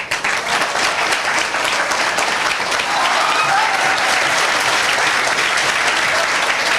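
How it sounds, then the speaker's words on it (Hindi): An audience of students claps loudly and continuously, a dense wash of applause holding steady for several seconds with a brief voice rising faintly in the middle. "तुम लोग बार बार ताली काहे बजा रहे हो"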